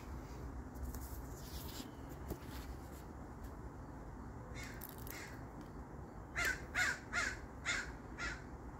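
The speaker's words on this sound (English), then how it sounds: "Bird." Crow-like cawing from a bird outdoors, first scattered faint calls and then a run of five or six loud harsh caws in quick succession near the end, over quiet background hiss.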